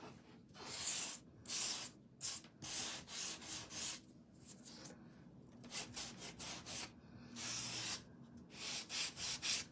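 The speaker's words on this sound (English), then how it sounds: "I'm just sanding around the edges a little." Sandpaper works around the edges of a small Bunny Inside Egg DIY kit piece in short, close, rhythmic back-and-forth strokes with brief pauses between passes, fairly quiet and with no voices.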